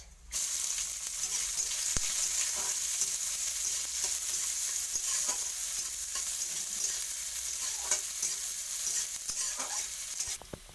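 Whole spices, onion, garlic and ginger frying in mustard oil, a dense, close, steady sizzle lasting throughout, with soft scattered stirring taps and no talking.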